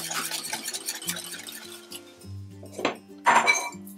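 Pineapple juice being stirred into cake batter in a bowl, with a utensil scraping and clinking against the dish in uneven strokes, close and fairly loud.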